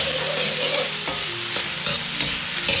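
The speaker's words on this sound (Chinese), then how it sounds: "保持中火，稍微多翻炒下，这一步大概需要2分半钟左右。" Pork belly stir-fried in caramelized rock sugar over medium heat in a Sichuan braised pork with chestnut recipe, a continuous close, steady sizzle and frying crackle with scraping stir strokes throughout, no talk.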